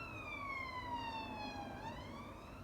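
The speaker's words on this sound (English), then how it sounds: "There's an ambulance." An ambulance siren wails at a distance, one faint, sweeping tone that falls in pitch and then starts rising again over a low background hum.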